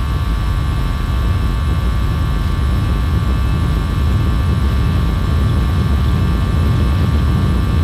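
Airbus A320 engines at takeoff power in a flight simulator game, a loud, steady roar with constant tonal whine lines, continuous and unbroken throughout.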